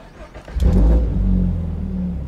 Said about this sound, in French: Alors on va démarrer du coup ce 4 cylindres